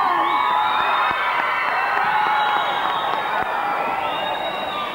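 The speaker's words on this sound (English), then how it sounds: "That deserves a big round of applause." A crowd in a town hall during a telethon breaks into loud cheering, whoops and applause, with a continuous roar of many voices throughout.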